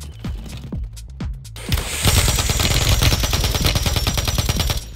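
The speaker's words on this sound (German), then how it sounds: "Da sind Schüsse." A few separate gunshots in Call of Duty: Warzone, then sustained rapid automatic fire bursts out loudly and keeps going.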